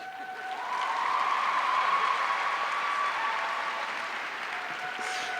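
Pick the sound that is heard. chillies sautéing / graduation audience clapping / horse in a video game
graduation audience clapping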